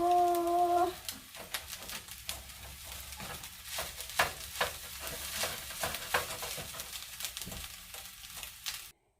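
Sausage, egg and vegetable fried rice frying in a pan, a steady close sizzle with repeated stirring scrapes and taps throughout, ending abruptly.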